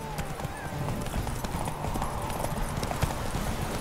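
Roach, Geralt's horse in The Witcher 3 video game, gallops in a steady, loud clip-clop of hooves that runs continuously from start to finish over a busy game soundscape.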